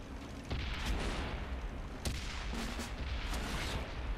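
Tank cannon shots from World of Tanks, several heavy booms at close range with one sharp blast near the start and another at about two seconds over a rumbling battle background.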